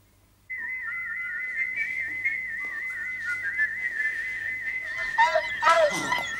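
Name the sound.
whistle blowing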